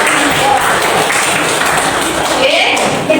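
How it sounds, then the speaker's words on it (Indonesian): Applause fills a secondary-school chemistry classroom, a steady dense patter of many hands clapping at close range for about three seconds, with faint voices mixed in. "Beri tepuk tangan untuk."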